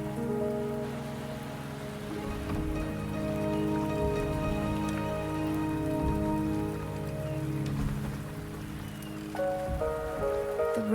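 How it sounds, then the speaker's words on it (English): Steady rain falling in the video game Wuthering Waves, an even wash of drops on surfaces with a faint tonal music bed underneath, continuous and close. "The rain is subsiding, and the sky will soon clear."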